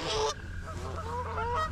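Several geese honk loudly and harshly at close range while fighting, their calls overlapping in rapid bursts over a low background rumble.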